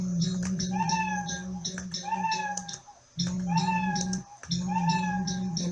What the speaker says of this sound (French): je vais jouer ici le miaou